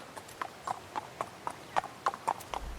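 Steady horse hooves clip-clop at an even walking pace within a music track, set against a faint background with a low thump near the end.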